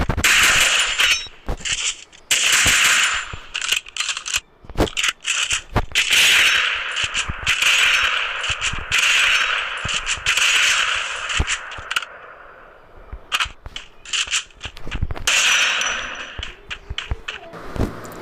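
Rapid bursts of M2 gunfire from the Free Fire mobile game, loud, sharp shots in repeated volleys with brief pauses, some clattering metallic tails, no talking.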